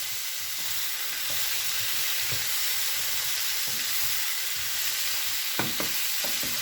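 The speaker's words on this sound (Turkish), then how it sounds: "Şimdi biberlerimiz de güzelce içinde kızaracak birlikte." Chopped peppers and mushrooms fry in a pan, giving a steady, close sizzling hiss with a few small pops and crackles and no talking.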